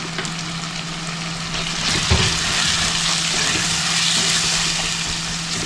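Tomato pieces frying with sautéed small shallots in a pan for a Kerala stingray fish curry, a dense continuous sizzle with a single knock or clatter partway through and no voices.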